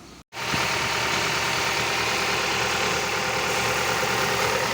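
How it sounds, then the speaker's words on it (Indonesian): A Canter Euro 4 truck diesel engine rumbles steadily at idle during injector purging after a brief silent gap near the start, a constant mechanical drone with a faint knocking texture. "Mesin Canter Euro 4 lur, proses purging biar nanti injektornya tetap bersih"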